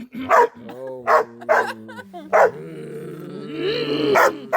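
A dog barks in a string of sharp, loud barks with growling rumbles between them, heard up close. Some voiced sounds blend in among the barks.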